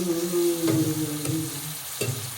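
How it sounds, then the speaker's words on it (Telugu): Eggplant pieces fry in a pan with a steady, soft sizzle, broken by three brief stirring scrapes near the start, middle and end. "ఇప్పుడు వేస్తున్న వంకాయలు"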